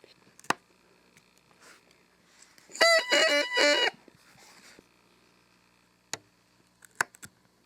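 A double-reed oboe reed, clipped during reed making, crows near pitch C: a loud, buzzy squawk of about a second with a few quick pulses, set between faint clicks and taps.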